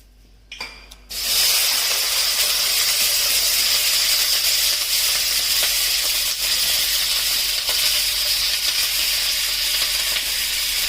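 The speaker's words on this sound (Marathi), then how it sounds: "आता आपण कढईमध्ये तेल घालून सर्व भाज्या फ्राय करायचे" Loud, steady sizzling of vegetables frying in hot oil in a wok, a dense hiss running on without a break after a brief quiet start.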